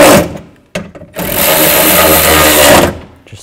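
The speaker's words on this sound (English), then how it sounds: "take your socket, tighten up the nuts and those two bolts" A socket wrench or power driver tightening nuts and bolts while installing a rear window regulator on a 2000-2006 Chevy Tahoe, heard as a loud continuous whirring burst of about two seconds after a couple of short mechanical clicks, close up.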